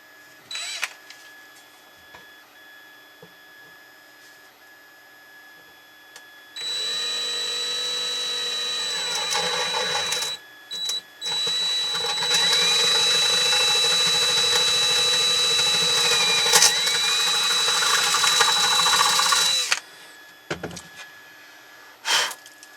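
A 3D printer printing a part for a drive-in radio build, its stepper motors whirring and whining in long continuous stretches with pitch sweeps, broken by short pauses and clicks; no talking.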